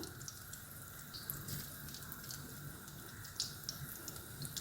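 Vada batter fries in hot oil with a continuous soft sizzle and scattered small pops and crackles. The sound is close but quiet, with no talking.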